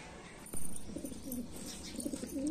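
An Indian desi pigeon coos in low, soft repeated phrases close by, following a brief louder knock near the start.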